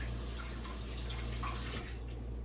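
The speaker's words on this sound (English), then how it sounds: "Let me rinse it off." A steady stream of running tap water rinsing an apple in a sink, continuous and fairly close with a constant low hum underneath.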